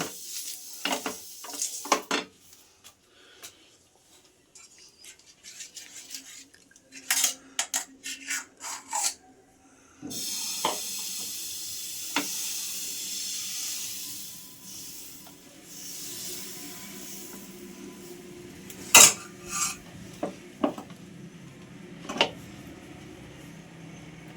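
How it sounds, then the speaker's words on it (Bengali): Oil is wiped across a hot pan for jaggery patisapta, giving intermittent soft rubbing and scraping strokes with brief clicks, followed by a quieter steady sizzle and occasional sharp taps. "প্রতিবারে তেল দেব আর এইভাবে মুছে নেব"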